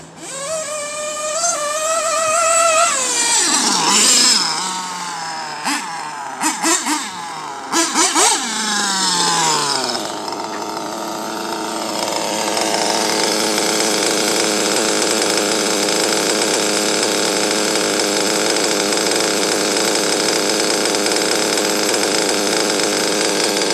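Small gas engine held near wide-open throttle, a loud, steady high-pitched drone that rises through several sharp revs in the first ten seconds, then settles into a sustained buzzing whine with no voices.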